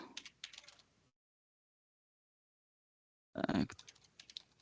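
Rapid clicking of computer keys typed in two short bursts separated by a long silent gap, close and fairly quiet.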